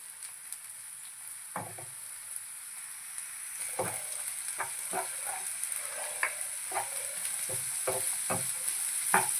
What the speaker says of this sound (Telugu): వేగనిద్దాము పచ్చివాసన పోయే వరకు వేసుకొని ఓకే అయిపోయింది ఇందులోనే మనం కూరగాయలు యాడ్ చేసేసుకున్నాము